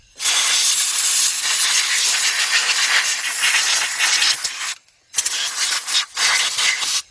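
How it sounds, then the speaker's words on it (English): Compressed air blasting debris out of the engine bay during a Kia/Hyundai V6 timing belt and water pump job, a loud harsh hiss in long bursts with brief pauses between. "I want to get the air thing. I want to blow that out."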